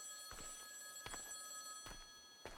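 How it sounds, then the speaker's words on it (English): A telephone rings faintly in short bursts, several times, over a quiet hum in the Lempo horror game, set in Finnish woods, sounding distant. "I can hear a phone ringing."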